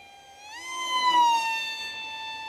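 An RC multirotor with RCTimer FR2205 2550Kv motors and 6x4x3 props makes a low pass, a high, harmonic-rich motor whine that swells in pitch and loudness as it approaches, then eases slightly as it moves away.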